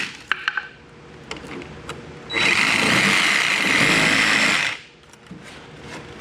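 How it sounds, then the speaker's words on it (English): A sawzall reciprocating saw cuts for about two seconds, a loud buzzing rasp that starts and stops abruptly, framed by a few light knocks and handling sounds. "or I just have a sawzall here."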